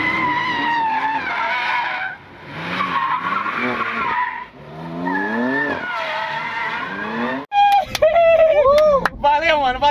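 A BMW M2 Competition drifting, its tires squealing in long wavering bursts with engine noise underneath, loud and close, then a sharp break into higher, warbling screeches near the end.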